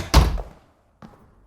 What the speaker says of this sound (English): Shut the door.